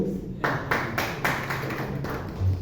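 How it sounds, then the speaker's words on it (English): A small group at a Toastmasters meeting claps in a few sparse, distinct bursts, roughly five separate slaps spaced about a quarter second apart, fairly quiet and close, with a faint voice underneath. "Our applause for Toastmaster Himani"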